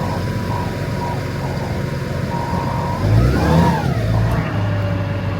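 A machine fitted with a slip clutch starting up, a steady engine drone that swells and rises in pitch partway through, loud and close, with no voices.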